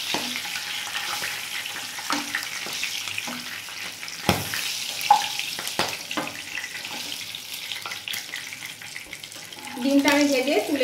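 Eggs shallow-frying in oil and ghee for an egg korma, a steady close sizzle with scattered pops and clinks of a utensil, swelling louder near the end.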